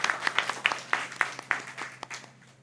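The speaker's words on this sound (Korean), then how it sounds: "박수." Audience at a Korean church service for young people claps in scattered bursts, individual sharp claps rather than sustained applause, fading toward the end.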